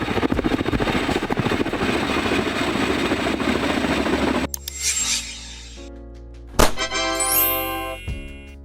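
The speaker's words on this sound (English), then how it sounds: "Military transport helicopter, a helicopter designed to transport troops, equipment, and supplies in military operations" A military transport helicopter drones loudly, its rotor chop and turbine roar holding steady before cutting off abruptly, followed by sparse metallic tinkles and a rising tonal sweep.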